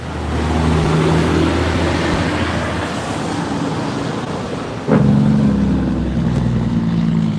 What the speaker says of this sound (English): There's a lot of traffic due to the construction up the street here, so there's a little backed up.